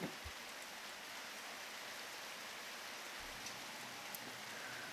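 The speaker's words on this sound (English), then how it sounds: "And it's raining too" Steady, soft rain falls in a video game world, an even wash of hiss with faint scattered drops and no voices.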